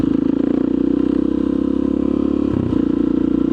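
Motorcycles rumble steadily past close by, a loud continuous engine drone with a brief dip and surge as one bike goes by.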